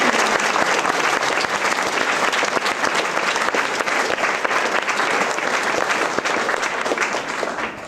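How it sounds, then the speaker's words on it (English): A parish gathering for a vicar's retirement bursts into a big round of applause for the caterers, dense and steady from many hands, sustained at full strength for nearly eight seconds. "Can we give them a big round of applause?"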